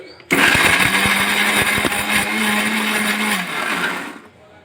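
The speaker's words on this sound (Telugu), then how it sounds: "ఇవన్నీ గ్రైండ్ చేసుకోవాలా. గ్రైండ్ చేసామా." Electric mixer grinder grinding chili and spices for kadapa karam, a loud steady motor whir that starts abruptly, runs for about four seconds, then cuts off.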